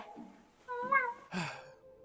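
A woman imitates a cat's meow, a short rising-and-falling vocal mew up close, followed by a brief breathy sigh-like sound.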